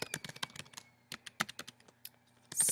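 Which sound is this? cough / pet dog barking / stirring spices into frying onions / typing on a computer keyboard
typing on a computer keyboard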